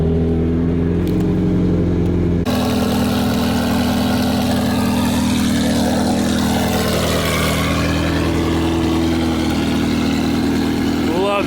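A Ferrari 348 Spider idling high after a cold start indoors, a loud, steady, throbbing engine drone that shifts slightly in pitch, with someone talking over it toward the end.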